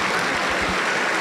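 Pentecostal church congregation applauding, a brief burst of dense, close clapping that fills the room.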